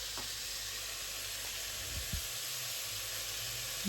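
Vegan, gluten-free lasagna filling sautéing in a pan, with a steady, close sizzle and hiss throughout and a faint clink of stirring.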